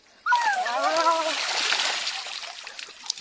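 Person bathing in a cold river, splashing water in a burst of close splatter and sloshing, with a brief voice-like tone at the start before the splashes trail off.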